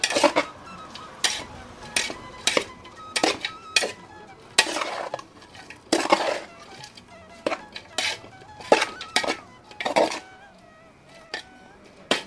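Sabudana being stirred with crushed peanuts in a metal pot, a string of sharp spoon-on-pot scrapes and clinks in an irregular rhythm over a soft background sizzle, close and fairly loud.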